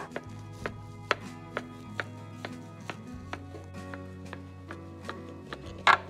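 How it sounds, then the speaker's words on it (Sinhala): A knife slices a home-baked marble cake into pieces on a board, with a steady series of sharp, close taps about every half second and a low hum underneath. "දැන් අපි කෑලි කපල බලමු කොහොමද කියලා"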